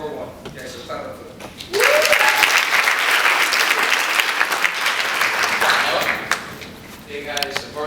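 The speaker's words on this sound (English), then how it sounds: "Okay, so clap up for them." A crowd at a school gathering breaks into loud, sustained applause that swells suddenly and carries on for several seconds before tapering off, with a few voices mixed in.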